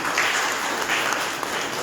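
An audience at a youth book talk gives a speaker a warm round of applause, a continuous burst of dense clapping at even strength across the short stretch.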